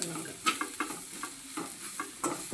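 Onions fry with fennel seeds and cinnamon pieces, a close sizzle broken by repeated rhythmic scraping strokes of stirring, about eight in quick succession, without speech.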